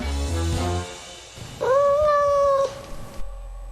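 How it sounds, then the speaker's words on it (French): A cat lets out a drawn-out, wavering meow or howl in the middle of a short stretch of background noise, fairly close and fairly loud. "c'est seulement un chat"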